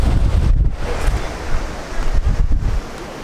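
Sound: Mediterranean Sea waves on the shore

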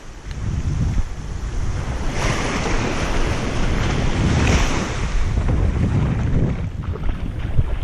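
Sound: ocean waves breaking on a beach

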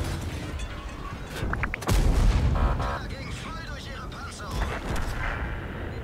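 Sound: tank firing high explosive shells in World of Tanks video game

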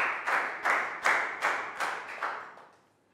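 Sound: class applauding for a student

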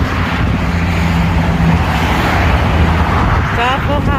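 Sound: freeway traffic passing below

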